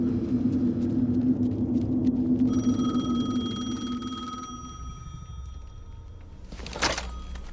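A telephone rings in the video game Alan Wake 2, a bright electronic ring that comes in partway through over a low droning rumble, cuts off, then a sharp thunk lands near the end.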